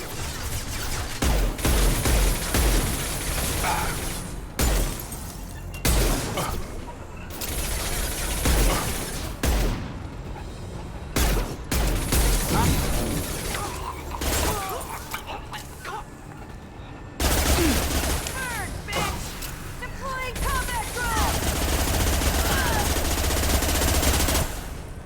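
Rapid bursts of video game gunfire in Mass Effect 2, loud machine-gun volleys and heavy booms in choppy clusters with short gaps, over game music and combat effects.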